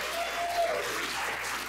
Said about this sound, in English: Mike Lindell, give him a big round of applause.